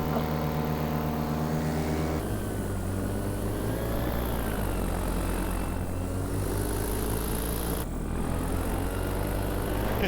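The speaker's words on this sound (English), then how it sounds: "Pretty fuel efficient little motor." A small paramotor engine on a paraglider drones steadily in flight, a loud, constant buzzing hum with wind rush that holds the whole time, with slight shifts in pitch.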